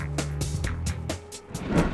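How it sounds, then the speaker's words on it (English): A pickup truck drives off with engine noise and a brief tire squeal, loud and close, the sound rising and falling over about two seconds with no talking. "jumped into his wife's pickup truck"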